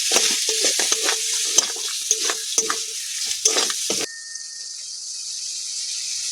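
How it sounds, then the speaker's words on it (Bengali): Sea crabs fry with spice paste in a pan as a spoon stirs and scrapes in rapid, uneven bursts, then the stirring stops and a softer, even sizzle carries on alone. "কাঁকড়াগুলো আমি মশলার সঙ্গে ভেজে নেব"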